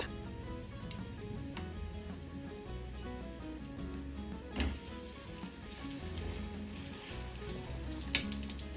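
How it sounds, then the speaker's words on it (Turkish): Quiet, steady sizzling of egg-dipped bread frying in a pan, with a few faint ticks and clicks scattered through. "ekmeği buluyoruz ve kızartıyoruz"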